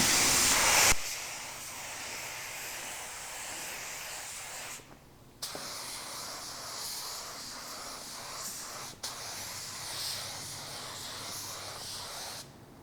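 A spray gun lays an orientation coat of car paint on a panel, hissing in long steady bursts with brief pauses between passes, an initial louder blast and fainter, even spraying after.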